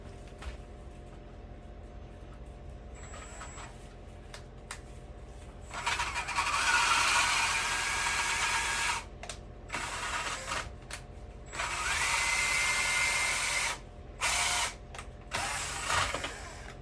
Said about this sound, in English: This is just a 3/4 inch paddle bit